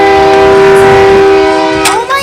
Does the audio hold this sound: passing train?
yes